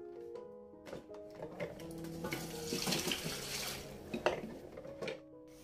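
Water runs from a kitchen tap while oil bottles are washed at the sink, splashing steadily with clinks and knocks of glass and dishes, moderately loud and close.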